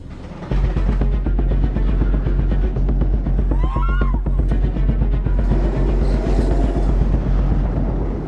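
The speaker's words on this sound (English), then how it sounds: "have just a few quick peeks of this weathered and much-traveled mine trolley in action" Mystery Mine roller coaster mine train at Dollywood, a weathered mine trolley rushing along with a loud, continuous rumble and rattle throughout, plus a brief squeal midway.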